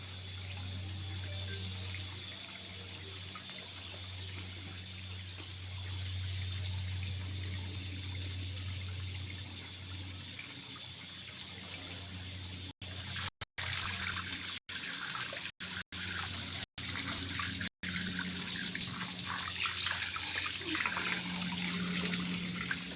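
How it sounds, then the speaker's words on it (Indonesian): Spring water pours without pause in a steady, close, full rush that stays constant throughout, with no talking heard. "ini air ngucur setiap hari, setiap malam, tidak ada yang memberhentikan"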